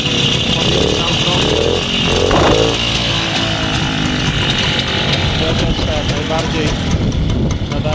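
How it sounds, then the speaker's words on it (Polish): Old WSK M06 motorcycle engine running close by, a loud, steady two-stroke idle with a rough, slightly choking rhythm, while someone talks over it. "Silniczek pracuje bardzo dobrze"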